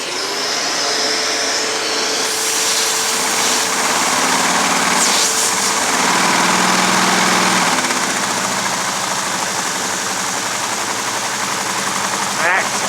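A LEGO motor spinning at maximum RPM on a homemade LEGO dynamometer gives a loud, steady high-pitched whine with a buzzing mechanical rattle, holding constant throughout with a slight swell in the middle.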